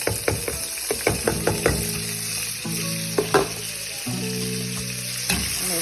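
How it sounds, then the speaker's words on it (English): Vegetables for chunky potato soup sizzle steadily in hot bacon grease, with sharp clacks of a utensil stirring the pan and a low tonal hum running underneath. "I'm gonna cook for a little bit in the bacon grease."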